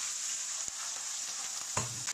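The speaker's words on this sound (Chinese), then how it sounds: "老人头下锅喽" Laorentou mushrooms frying in a pan give a steady, close hiss of sizzling oil with a brief clatter of stirring near the end, no voices.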